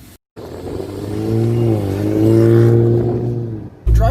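A 2020 Roush Ford Ranger performance pickup truck pulls away with a loud, close engine drone that revs and rises smoothly, holds, then drops before a brief cut to a louder burst.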